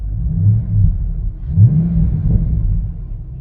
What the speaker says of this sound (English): I hear some modified exhaust sounds